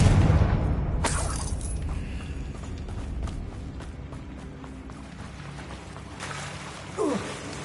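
A Confringo blasting spell explodes in the game Hogwarts Legacy: a deep booming blast with a sharp burst, then a rumbling tail and another burst near the end.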